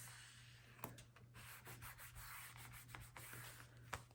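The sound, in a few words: burnishing a scored paper fold with tape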